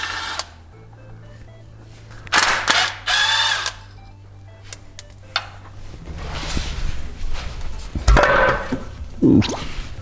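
A power tool, likely an impact or drill driver, whirs in several short close bursts while removing oil pan bolts from a Nissan Titan V8 truck engine, with clanks and shop noise between runs.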